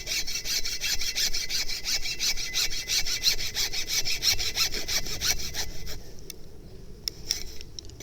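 A broken cassava stem is sawn through with steady, rapid back-and-forth rasping strokes, close and loud, then slowing into a few scattered scrapes and taps near the end.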